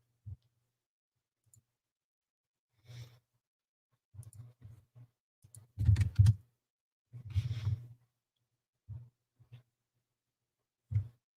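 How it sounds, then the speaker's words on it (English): Loud computer keyboard typing in sporadic, thumping bursts of keystrokes with silent gaps between them, close up and without any talking. "I apologize for the volume of my keyboard."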